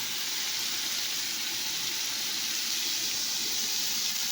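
Chili and soya chunks sizzle in a hot pan, a steady bright hiss that holds evenly throughout with no voices over it.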